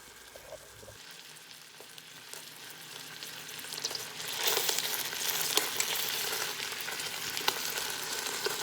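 Pot roast meat browns in a fry pan with a steady crackling sizzle that grows louder and denser halfway through, continuing alone with scattered pops.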